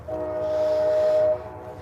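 A loud train horn sounds one long steady blast over the rumble of a passing train, then cuts off, leaving the rolling noise.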